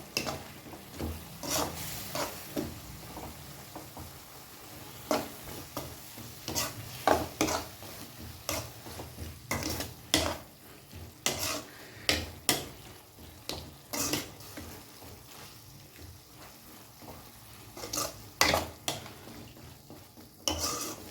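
Vegetables being stirred for restaurant-style veg noodles in a pan, with repeated sharp scraping and clinking strokes of a utensil against metal over a soft sizzle, close and fairly loud, with no talking.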